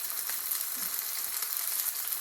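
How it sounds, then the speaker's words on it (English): Continuous bright sizzle of an ahi tuna steak searing in hot oil, even and moderately loud with no voices. "I really want that oil to keep sizzling"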